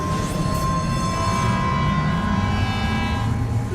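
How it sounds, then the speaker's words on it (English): A monorail in the game Death Stranding 2 starting up, with a steady loud mechanical rumble and a sustained horn-like tone running throughout. "Start monorail."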